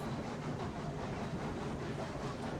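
Steady, dense rumble of a heavy freight train laboring up a grade in the Railroads Online game, a continuous near engine roar with faint rail clatter and hiss, unbroken throughout.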